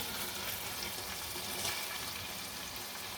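Chicken pieces frying in oil in a pan, a dense, steady sizzle heard close and loud throughout with no talking.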